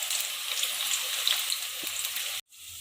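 Okra pieces fry gently in oil over a low flame, a soft continuous crackling hiss with light pops, briefly cutting out near the end.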